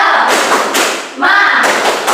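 A class of children doing a rhythmic spirit clap in a classroom, loud close bursts of group clapping and thumping in a quick patterned beat, with short pauses between phrases and some voices chanting along.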